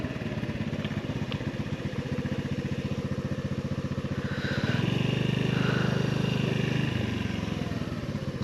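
Honda Navi motorcycle ridden through Fairdale up and down Mitchell Hill Road, Louisville, Kentucky: a steady close engine drone with a pulsing putter that rises into a louder, fuller surge partway through before easing back.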